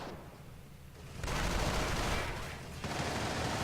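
Sustained machine gun fire and battle din from the World War II strategy game Company of Heroes, a dense continuous roar of gunfire that swells louder midway and keeps going without pause.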